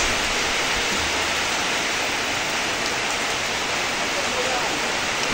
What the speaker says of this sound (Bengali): দেখেন এই যে কী পরিমাণ বৃষ্টিটা হচ্ছে, বৃষ্টি এবং বাতাস